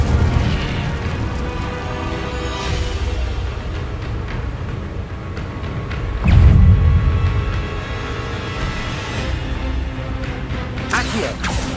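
Incendio fire spells cast in the Hogwarts Legacy video game burst with a deep boom and crackle, one heavy blast standing out midway among other spell effects and game sounds.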